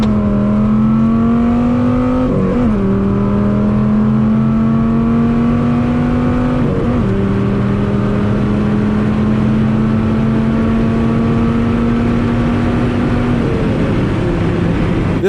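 An Audi R8 V10 launches hard in a race, its engine wailing steadily and loud as it climbs through the revs, with brief dips at each of several gear changes and heavy wind roar underneath throughout.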